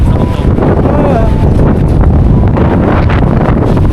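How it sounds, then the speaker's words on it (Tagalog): Strong gusty snowstorm wind at a South Korean ski resort roars and buffets the microphone steadily, a loud rushing blast with a faint voice briefly under it. "Lakas ng hangin tapos snow eh no."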